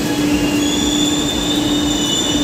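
A Chennai metro train pulls in with a loud, steady rumble of wheels on rail and a sustained high squeal, continuous throughout and close by, with no talking.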